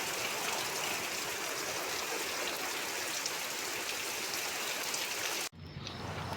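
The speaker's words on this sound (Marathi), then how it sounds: "हा बघा जोरदार पाऊस आलाय" Heavy rain pours at night near a jetty at Tavsal, a loud, dense, steady hiss of drops drumming on surfaces that cuts off abruptly near the end, leaving quieter background.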